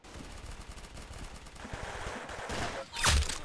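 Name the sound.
gunfire in Arsenal video game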